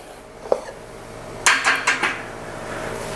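Plates and bowls are set into a newly assembled dish rack: one light clink, then a quick run of four ringing ceramic-on-metal knocks, fairly close, with no talk.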